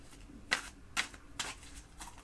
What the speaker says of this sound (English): Just going to go ahead and shuffle these here.